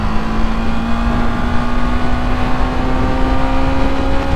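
A Kawasaki Ninja 250 motorcycle pulling hard at high revs, a steady loud engine drone buried in heavy wind roar for a few seconds without letting up.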